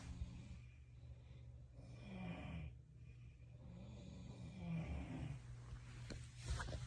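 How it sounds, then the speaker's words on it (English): A person snoring softly in a quiet room, slow repeated rasping breaths at low volume with faint background hum and a few light snorts. "she's snoring"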